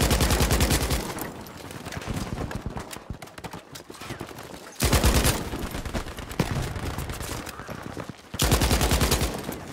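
LS/26 light machine gun in Battlefield 5, loud rapid bursts of automatic fire separated by short pauses, with sharp crackling shots and echoing tails, close and dominant.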